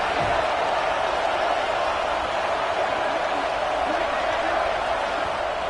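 A stadium crowd in a college football video game gives a steady, dense roar that holds at one level throughout, with faint voices mixed into the wash.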